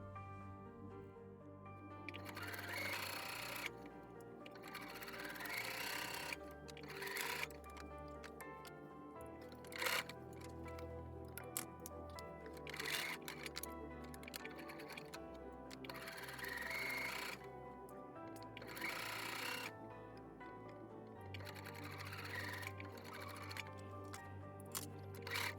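Sewing machine stitching quilt fabric at a 1/4 inch seam, a faint rhythmic whirring in repeated short runs with pauses between them, quiet and close.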